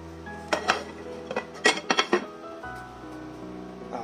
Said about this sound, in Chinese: 然后我们盖上盖子